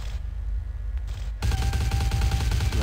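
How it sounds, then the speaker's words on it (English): Loud gunfire in the video game Vampire: The Masquerade – Bloodlines: a tense low rumble, then a sudden dense fusillade of rapid automatic shots that continues steadily to the end, with no talking. "This gunfire's really loud"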